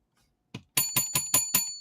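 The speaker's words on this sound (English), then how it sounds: "my bell's broke" A bicycle bell rung in a quick series of about five or six bright metallic rings, preceded by one softer tap, close and clear with no talk over it.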